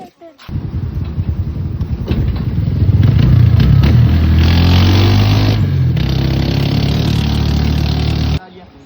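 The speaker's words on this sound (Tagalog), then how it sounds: "Pag-start lang kami ng motor." A motorcycle engine starts with a clattering crank, then catches and revs up into a loud, rising roar that holds near the listener before cutting off abruptly; voices talk faintly underneath.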